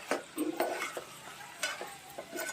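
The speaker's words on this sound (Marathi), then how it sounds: "आता हा मसाला पूर्ण व्यवस्थित छान तेलावरती परतू द्या" Masala and mixed vegetables for a Bhogi mixed-vegetable dish are stirred in hot oil in a pan: soft intermittent scrapes and taps over a faint, low sizzle, quiet and close.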